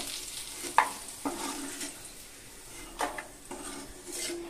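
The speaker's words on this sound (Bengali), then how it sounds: "কাঁঠালের দানাগুলো একটু নেড়ে চেড়ে হালকা ভেজে নিব" Jackfruit seeds are stirred and lightly fried in a pan, with soft sizzling under a few distinct scraping and clinking strokes of a spoon against the pan, and no talking.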